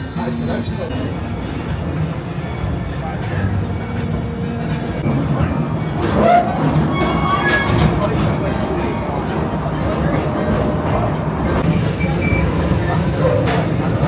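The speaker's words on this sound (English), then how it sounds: "there's nothing like a nice relaxing train ride" An amusement park train at Worlds of Fun in Kansas City lurches out of the station, rumbling and clattering steadily, with wheel noise and metallic squeals rising over a constant low drone.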